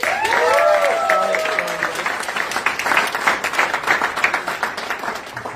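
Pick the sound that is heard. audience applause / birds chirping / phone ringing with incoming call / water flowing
audience applause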